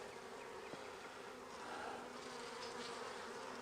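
Dense, continuous buzzing of many honeybees on hive frames up close, a steady droning swarm that swells slightly midway, with no talking.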